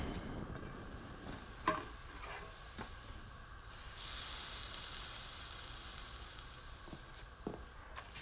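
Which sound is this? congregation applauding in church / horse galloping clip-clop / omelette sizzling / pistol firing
omelette sizzling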